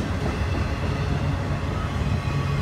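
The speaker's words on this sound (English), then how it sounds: "Taking up the notch 8, which is the fastest it can go." A Norfolk Southern Dash 9 diesel locomotive leads a train as it throttles up to notch 8, giving a loud, steady low engine roar with a sustained drone throughout.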